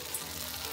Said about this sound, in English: this is a liangfen, some type of starch jelly that she's frying here